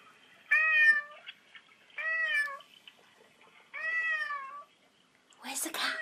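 A cat named Mister meows three times in drawn-out, rising cries spaced about a second apart, close and fairly loud, followed by a brief rustling burst at the end.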